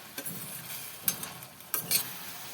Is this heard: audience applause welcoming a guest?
no